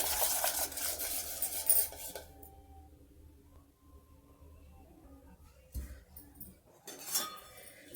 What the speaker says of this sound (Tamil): அதுக்குள்ளே இந்த முட்டையை நல்லா அப்படி அடித்து எடுத்துக்கலாம்.